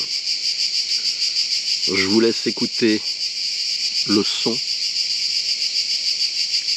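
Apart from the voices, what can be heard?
cicadas chirping outdoors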